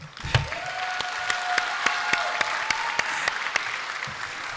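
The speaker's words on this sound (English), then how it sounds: "you need a bigger round of applause because, guys, you made it to this day" A crowd claps steadily at a middle school moving-up ceremony, moderately loud and continuous, with a few sharper individual claps standing out and a faint voice or tone running underneath.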